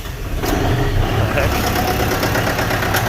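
An old tractor engine idles with a steady, rough low rumble that holds evenly throughout, while a person talks over it.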